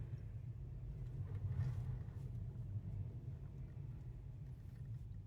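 A 2020 VW Passat GTE plug-in hybrid creeps backward under park assist, giving only a low, steady interior rumble with a faint swell partway through and no distinct engine note.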